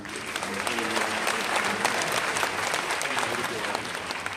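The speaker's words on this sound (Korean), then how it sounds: "박수로 감사합니다" Applause from a seated crowd at a Korean civic ceremony with welcome and congratulatory speeches, a dense steady clapping lasting the whole stretch at even loudness, with no voices over it.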